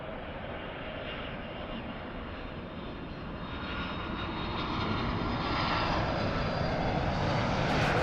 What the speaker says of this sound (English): LHO heavy Boeing 767 touching down, wind 2208, caution wind turbulence, runway 248, clear to land